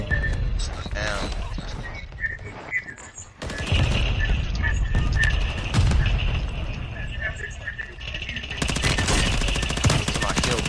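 Rapid bursts of Call of Duty video game gunfire, including sniper shots and automatic fire, crack loudly and repeatedly in close succession, with excited players talking over the shooting.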